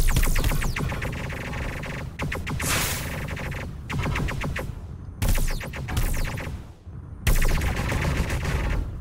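Rapid bursts of energy-weapon fire blast from a ship in a sci-fi space sim game, loud and close, in several dense volleys separated by brief gaps.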